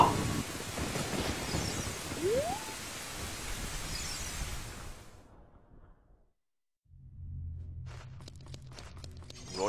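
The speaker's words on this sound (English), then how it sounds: "It's like lightning came down to shut the grave!" A lightning strike and thunder at a grave in Zelda: Ocarina of Time: a hissing, rain-like rush with a sweeping whoosh, then the sound cuts to near silence before a low rumble and faint crackling return.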